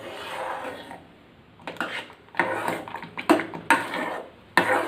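A spoon scrapes and clinks against a pan while aval kesari of flattened rice with sugar, red colouring and ghee is stirred. The knocks come in irregular bursts, close and distinct, with no voices.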